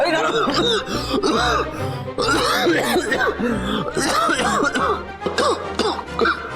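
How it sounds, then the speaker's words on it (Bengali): A person coughs repeatedly in rough, close bursts that are mixed with chuckling and throat clearing, with the sound filling the whole stretch. "কাশি কাশি হচ্ছে"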